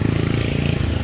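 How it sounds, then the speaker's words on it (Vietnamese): A loud, close engine drone, like a motorbike passing, comes from the busy road leading into the town of Cái Bè. "Rất là nhiều xe chạy"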